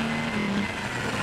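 The number 1 Audi endurance prototype pulls out of the pits at Fuji in 2012, its engine a steady close drone with a brief whining tone early on.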